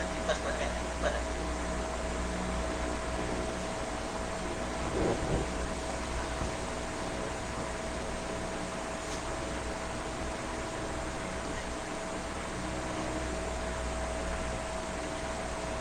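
A strong electric fan runs with a steady, broadband whoosh and a faint constant hum, filling a room where a book discussion is being held.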